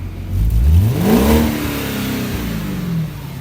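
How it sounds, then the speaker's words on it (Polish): An Audi A8 D3 3.7 V8 exhaust revving once, the deep rumble climbing sharply in pitch then slowly settling back to a loud, throaty idle. "a najpierw zaprezentuję może wydech"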